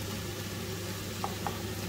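Quiet, steady sizzling of meat frying in a pan, with a couple of soft clinks of a utensil near the end.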